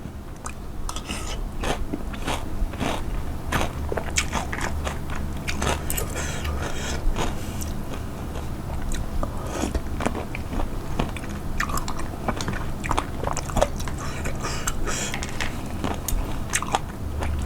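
Close, continuous crunchy chewing and biting of a pomelo salad with crispy fish, dried shrimp and peanuts, rapid crisp crackles repeating throughout with no talking.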